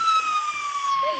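A wailing police car siren sweeps in the Rope Hero 3 video game, steady and fairly clear for a brief moment, ending with a sharp click.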